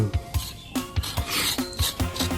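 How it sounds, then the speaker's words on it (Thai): An ordinary metal spoon scrapes the knobby peel off fresh ginger root, giving repeated short rasping strokes in a steady rhythm, close and fairly loud, with no talking. "ช้อนธรรมดาขูดออก ถ้าเปลือกมัน"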